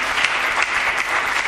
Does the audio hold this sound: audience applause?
yes